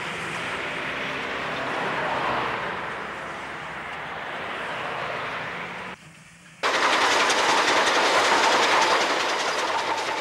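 Steam trains led by 3140 class engines rumble along the rails in New South Wales, a loud, continuous roar and rhythmic clatter that drops out briefly before returning louder and closer.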